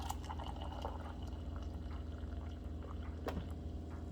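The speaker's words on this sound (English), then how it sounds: "Then you just press that and you dispense water." Hot water dispensed from a Primo bottom-load water dispenser with electric controls, a faint steady pouring stream over a low constant hum, with a brief click near the end.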